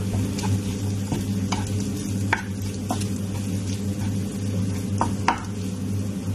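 Food sizzles steadily in a frying pan while a utensil stirs it, with a few sharp scrapes and clinks against the pan standing out over the constant hiss.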